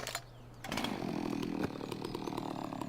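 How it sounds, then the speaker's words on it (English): A chainsaw in Farming Simulator 17 snarls into life after a brief quiet start, then holds a loud, steady buzzing drone close by, with a slight dip in pitch partway through. "And yes, we do have a chainsaw."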